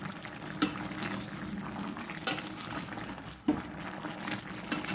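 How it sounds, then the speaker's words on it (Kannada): Chicken sukka simmers in a pan in its own released juices, with no added water or coconut, giving a steady soft bubbling sizzle broken by a few sharp clinks of a stirring spoon, with no talk. "ನೋಡು ಈಗ ನೋಡಿ ಚೆನ್ನಾಗಿ ನೀರು ಬಿಟ್ಕೊಂಡು ಬೇಯ್ತಾ ಇದೆ"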